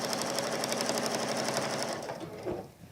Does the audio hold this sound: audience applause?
no